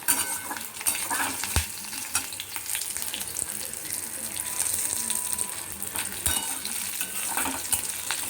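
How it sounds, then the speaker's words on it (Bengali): Whole spices sizzle and fry in a pan over low heat while a spatula stirs them, making a steady bright hiss with scraping strokes and a few sharp knocks throughout. "সব মশলা ভাজার যখন একটা খুব সুন্দর গন্ধ বেরোবে"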